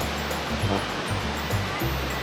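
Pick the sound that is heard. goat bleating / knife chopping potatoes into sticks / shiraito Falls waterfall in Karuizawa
shiraito Falls waterfall in Karuizawa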